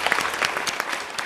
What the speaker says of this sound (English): But round of applause for Chris, please.